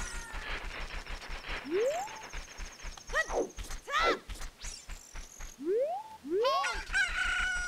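A rooster in Zelda: Ocarina of Time gives several rising crows and clucks, spaced unevenly over a background of rhythmic in-game sound effects and music.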